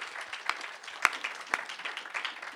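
Steady applause from a crowd at an entrepreneur prize event, a dense patter of clapping with a few sharper, louder claps standing out, fairly distant and without voices.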